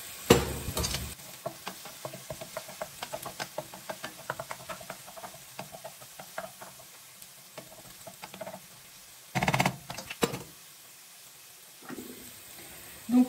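Food browning in a pan, with a busy crackling sizzle and rapid stirring taps throughout, plus a few louder scraping bursts near the start and in the middle.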